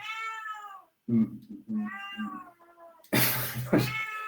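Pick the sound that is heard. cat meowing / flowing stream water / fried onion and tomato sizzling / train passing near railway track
cat meowing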